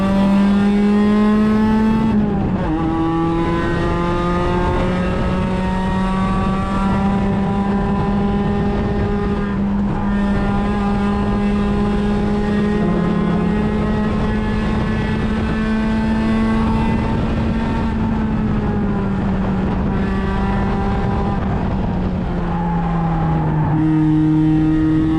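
A Miata race car engine screams at high rpm on track, heard from the passenger seat in a 4- or 5-point harness; loud, sustained harmonic drone with shifts and a dip near the end as it settles, no talking.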